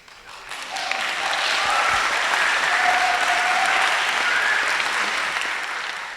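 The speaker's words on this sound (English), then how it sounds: "Save your applause for the people who deserve it." An audience at a public conversation on food applauds the publisher as he takes the stage, a full, even burst of clapping that swells quickly, stays strong for several seconds, then begins to fade.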